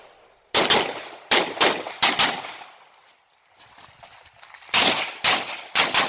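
ZPAP M70 AK-47 rifle fired during a competition stage while moving: loud close bursts of sharp shots in quick pairs and strings, a quieter shuffling gap in the middle, then more rapid shots.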